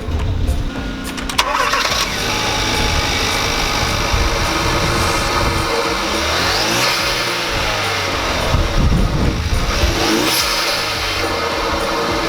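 A 2016 Hyundai Veloster Turbo fitted with an Injen intake cranks and fires up nearby, then settles into idle broken by several sharp revs with audible intake whoosh, no talking.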